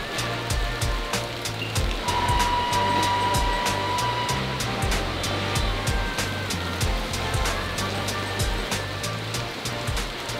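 Loud, constant rush of heavy rain and wind during a storm in Vietnam, with rhythmic low thumps underneath, a dense storm roar filling the whole stretch.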